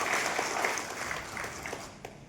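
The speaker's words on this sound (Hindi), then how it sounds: "आपके लिए एक जोरदार ताली होगा हमारे को।" An audience of farmers at a rural training and awareness program in Bargarh, Odisha applauds, a dense patter of many hands clapping at moderate distance that slowly thins toward the end.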